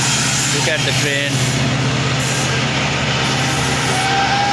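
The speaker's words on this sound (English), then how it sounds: "Look at the train." A long-distance train at a railway station, a loud continuous low engine rumble with a brief hiss and squeal early on, close by throughout.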